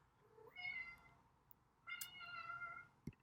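A house cat gives two drawn-out meows, the second longer and higher, faint against low background noise, followed by a brief thump.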